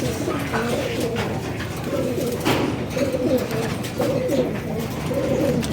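Pigeons coo nearby in soft, repeated throaty phrases, several rounds of burbling calls over a light background hum.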